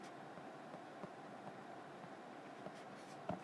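Pen writing numbers on paper: faint, soft scratching strokes with small taps, steady and quiet against a low background hiss.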